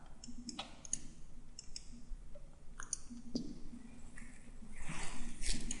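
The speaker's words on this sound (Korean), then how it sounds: "클릭, 클릭합니다." Computer mouse clicks while drafting in Inventor CAD software: a handful of crisp, separate clicks spaced irregularly, close and fairly quiet over a faint room background.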